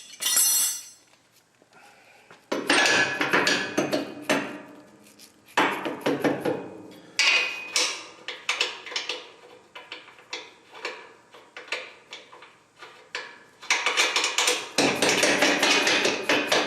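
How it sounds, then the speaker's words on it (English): A bolt is hammered into a donor Mustang suspension assembly for a Factory Five MK4, with many sharp metallic blows in quick runs and pauses, close and loud, and no talk. "So we'll pound this in just enough so we can still get the nut on."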